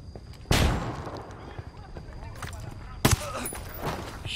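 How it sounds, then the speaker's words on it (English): Gunfire in the tactical shooter Ghost Recon Wildlands: two loud sharp shots about two and a half seconds apart over a low game ambience, with speech around them. "Acabo de escuchar un tiro."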